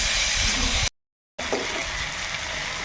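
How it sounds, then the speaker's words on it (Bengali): Spices with turmeric and coriander powder sizzle and fry in a pan, a steady close hiss that breaks off briefly and then resumes, with stirring. "তো এখন কিন্তু এই মশলাগুলো একসঙ্গে বেশ ভালো করে কষিয়ে নেব।"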